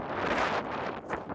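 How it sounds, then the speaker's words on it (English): Wind buffets the microphone on a desert trail among cactus between Superior and Mammoth, a close, continuous rumbling gusty roar that swells and dips. "it's probably going to be a little windy"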